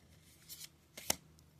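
Quiet riffling of a deck of tarot cards being shuffled, a couple of short soft bursts close up.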